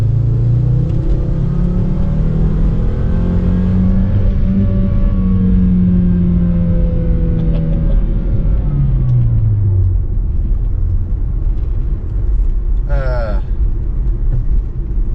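A car engine rumbles and revs as it accelerates through several rising pulls on a drive, loud and close, with a brief chirp near the end.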